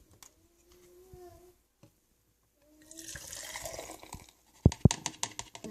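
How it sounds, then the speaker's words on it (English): Matcha tea is poured into a cup, a soft trickling stream of liquid followed by a few sharp clinks or taps near the end, quiet and close with no talk. "And then pour it into my cup."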